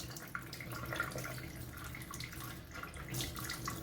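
Tap water runs steadily into a sink while raw chicken is washed for a curry, a soft continuous splashing flow close by with small drips and no talk.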